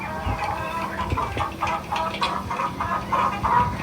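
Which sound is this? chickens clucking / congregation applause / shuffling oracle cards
chickens clucking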